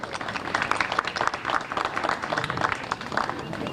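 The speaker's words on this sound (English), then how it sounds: "Can we have a round of applause for him?" Audience applause for a speaker at a policy institute event, steady dense clapping from a seated crowd lasting several seconds, moderately distant, with faint voices beneath.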